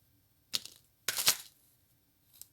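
Scissors snipping a length of curly cue decoration for a fall pumpkin craft, two quick crisp cuts close by with a faint third click after a pause.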